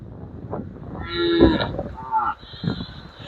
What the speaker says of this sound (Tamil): இப்போ பட்டியை திறந்து விடுறார் பாருங்க மாடு எல்லாமே வெளியே வந்து போய் கொண்டிருக்குது